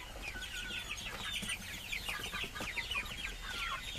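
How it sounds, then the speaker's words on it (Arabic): Seven young birds, two hens and five roosters, cluck and chirp in a steady overlapping chatter at close range, fairly quiet, with no talking. "الفراريج الصغار اللي حولناهم جديد، 7 عددهم، دجاجتين و5 ديوكة"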